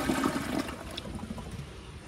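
Project Source Pro toilet with a replaced flapper flushing, a loud rushing gush of water that tapers into a softer swirling drain and trickle over about two seconds, close and with no voices.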